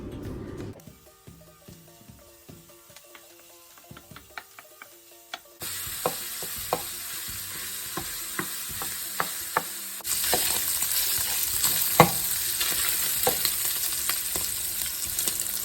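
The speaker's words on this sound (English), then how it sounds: "I'm going to break it all up into the frying pan so that the smaller pieces cook easier" Crumbled breakfast sausage sizzles in a frying pan over medium-high heat while a utensil scrapes and breaks it up. The sizzle starts faint, grows louder in two steps, and sharp clicks and taps of stirring run throughout.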